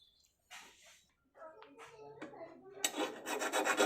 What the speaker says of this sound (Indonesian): Jadi setelah dikikir baiknya ya dibelok lagi karena biar enggak menimbulkan karat. Nah, ini saya kikir terlebih dahulu.